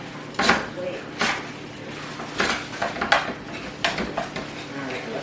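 Cooked meat being stirred in a pan, with repeated clanks and scrapes of a utensil against the metal in an irregular rhythm, close up, while someone talks over it.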